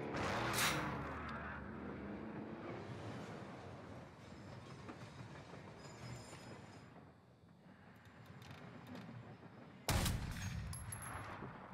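Gunfire in the Warzone video game rattles in bursts with a dense mechanical clatter, fairly quiet overall, ending in a sharp louder shot near the close.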